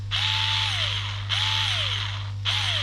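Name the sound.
Rolson cordless screwdriver running at full speed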